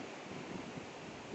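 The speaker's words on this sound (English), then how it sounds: "The wind's blowing east." Outdoors in Portage, Michigan during a high wind advisory, gusty wind rushes and buffets the microphone in a continuous loud roar, with no other sounds clearly heard.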